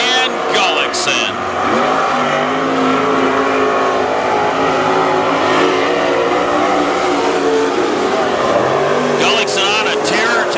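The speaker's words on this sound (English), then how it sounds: "Gullickson on a tear tonight in Heat 2 for the Super Stocks of WISSOTA." WISSOTA Super Stock race cars running a heat at Princeton Speedway, with loud continuous engine roar and revving rising and falling as cars pass, under an announcer's voice.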